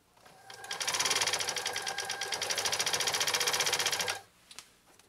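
A New Home SL2022 all-mechanical 1.0 amp sewing machine from the 1980s runs in one sustained burst of rapid, even needle clatter lasting about three seconds, close and loud, then stops, followed by a couple of light clicks.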